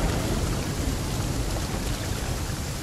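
A thunderstorm brings heavy rain as a dense, continuous, loud wash of broadband noise, with no voices present.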